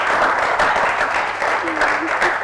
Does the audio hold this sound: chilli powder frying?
no